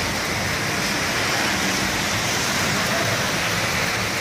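Steady rain pours down near a cable car line, a dense, loud, unbroken hiss that fills the whole stretch with no voices heard.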